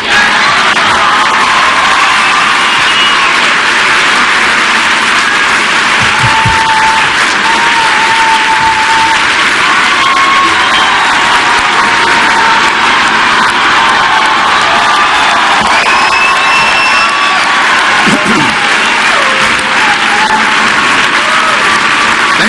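A large CPAC conference audience applauds and cheers for a long, unbroken stretch, a loud, dense roar of clapping with whoops and yells rising through it and no speech over the top.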